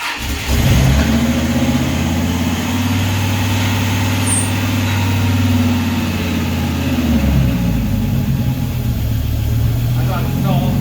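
A Kaiser Jeep M715 overland truck with a V10 engine, running for the first time after re-assembly and a blown engine-controller fuse, holds a loud, steady idle close by for about seven seconds. Then the rumble drops off as if stalling.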